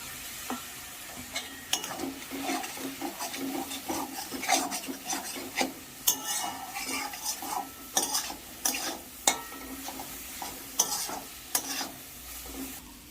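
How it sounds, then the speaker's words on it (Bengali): Spice paste with ground coriander being cooked down in a pan with a little water for a Bengali rohu fish and pointed gourd curry, with continuous rhythmic scraping strokes of a spatula over a low sizzle. "প্রয়োজন মতো অল্প করে জল দিয়ে মশলাটা ভালো করে কষে নিতে হবে"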